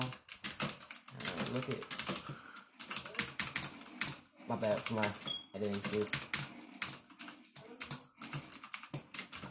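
Keys clatter in quick, uneven bursts on a new Onn Walmart computer keyboard, close-up and crisp, broken by short pauses, while someone talks over much of the typing.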